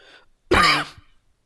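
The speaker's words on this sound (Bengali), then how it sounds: "আমার অবশ্যই একটু কাশি, এই জন্য কাশ আসতেছে হালকা হালকা" A single close, loud burst of throat clearing with a short cough-like edge, brief and isolated after a faint murmur, from a lecturer pausing during a lesson on AC series resonance circuits.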